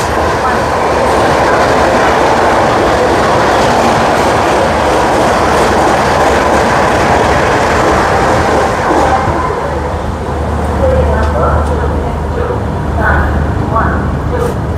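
A passenger train pulls into a station, its loud, steady rumble and rail clatter filling the whole stretch before easing slightly near the end, with some voices faintly audible around it.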